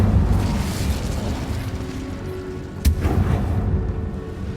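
Incendio fire spell in Hogwarts Legacy, a deep rumbling roar of flame with one sharp burst near the middle, then the roar continues and slowly fades.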